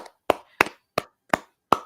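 Five sharp, evenly spaced hand claps, close and crisp, each a single short burst with silence between.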